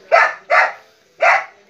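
Dogs bark loudly and close by in three sharp, evenly spaced barks, with no voices.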